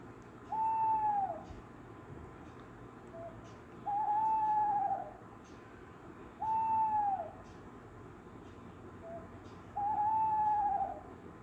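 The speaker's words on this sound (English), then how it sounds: "Owl," An owl hoots four times in evenly spaced, drawn-out calls, each a clear tonal note over a faint steady background.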